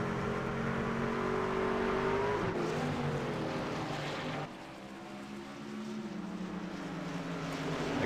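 Racing trucks in iRacing at Lime Rock drone steadily with layered engine tones, pitches rising and falling as they race past, with a brief dip and recovery midway.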